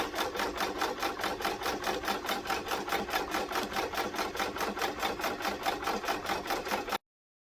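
A Ricoma EM1010 embroidery machine runs at speed, producing a loud, steady, rapid rhythmic chatter of needle strokes for about seven seconds before cutting off abruptly.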